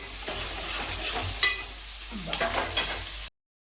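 Sliced onions and green chillies frying in a pan, a soft steady sizzle with a spatula scraping and stirring, sharp clinks of metal against the pan standing out before the sound cuts off abruptly.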